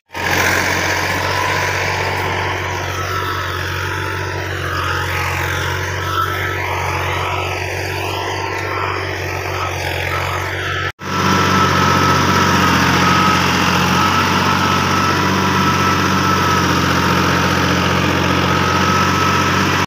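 A farm tractor engine runs in a field during wheat sowing. It holds a loud, close, steady drone that drops out for a moment midway and then resumes, with no talking.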